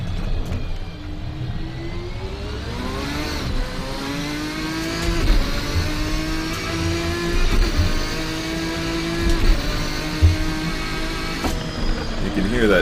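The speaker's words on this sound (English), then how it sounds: "You can hear that V12 absolutely screaming its lungs out." A V12 race car engine in the Assetto Corsa racing sim screams at high revs, climbing through the gears with rising pitch and brief drops at each shift, continuous and loud throughout.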